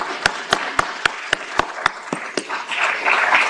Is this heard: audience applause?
yes